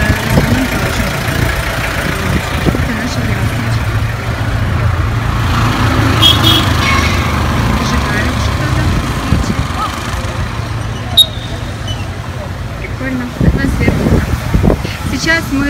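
A car driving along a mountain road in Sri Lanka, with a steady engine rumble and road noise running throughout while people talk over it.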